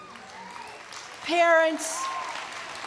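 A commencement crowd applauds and cheers for the graduates' parents, a swell of clapping rising over someone speaking into a microphone.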